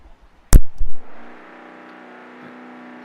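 Racing trucks lined up at the start of a Community Clash event at the Washington County Fairgrounds. A sharp loud bang and a few quick bursts are followed by a steady, droning engine idle, close and with no voices.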